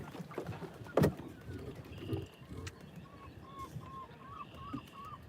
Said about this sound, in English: Seagulls are a little louder out here.